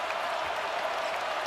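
Basketball arena crowd applauding and cheering after a deep three-pointer in a Tennessee versus Wisconsin game, a steady wash of clapping and roar without any break.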